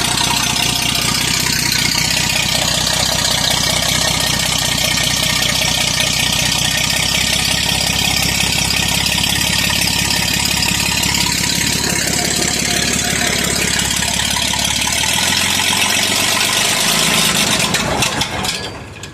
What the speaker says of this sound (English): I always love to hear this old tractor run.